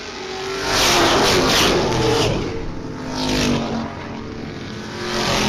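Stock car engines at a B-Group feature race at Springport Motor Speedway, loud roaring passes swelling and fading as cars sweep by, one after another in a continuous pack.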